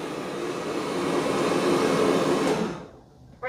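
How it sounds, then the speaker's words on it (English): A Roborock Qrevo Pro robot vacuum runs over carpet with a steady, loud whooshing suction roar that holds for about three seconds, then cuts off abruptly, followed by a brief soft bump at the end. "And now it's vacuuming the carpet for the second time."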